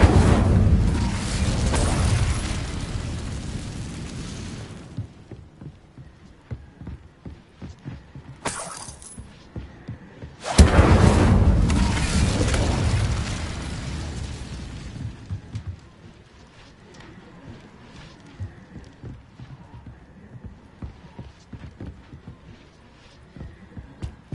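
Incendio fire spell cast in the video game Hogwarts Legacy: loud roaring whooshing bursts of flame in several blasts, separated by quieter stretches of crackling and clattering game effects.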